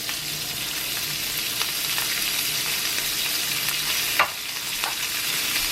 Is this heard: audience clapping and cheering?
no